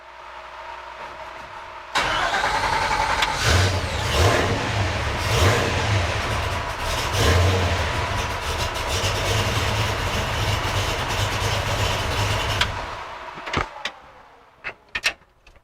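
A 1957 Chevy with a supercharged blower engine cranks and fires abruptly, then settles into a loud, rough, lumpy idle with occasional revs for about ten seconds before shutting off, followed by a few clunks.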